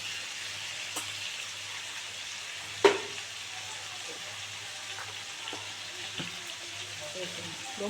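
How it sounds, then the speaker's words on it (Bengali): Prawns frying with spices in a pan for a Bengali prawn malai curry, a steady low sizzle throughout with a sharp clatter near three seconds and a few faint utensil taps. "দু মিনিট ধরে ভালো করে ভেজে নিয়েছি এবারে মশলাগুলো দিয়ে দেবো"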